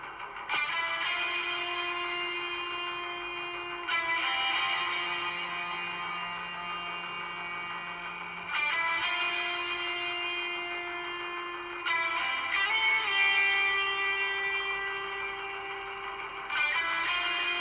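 Rock cover, with distorted guitars and synth sustaining long chords in repeating phrases that swell and restart every few seconds, loud and full with no voices.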